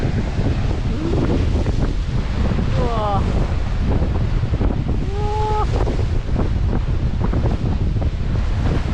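Steady wind buffets the microphone over a continuous roar of surf on the South West Coast Path in England, with sea spray nearby and a brief exclamation from a person partway through.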